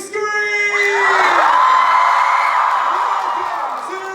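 A TwitchCon crowd at a Dream SMP panel screams and cheers loudly, a dense wall of high-pitched shrieks and whoops that swells and holds for several seconds.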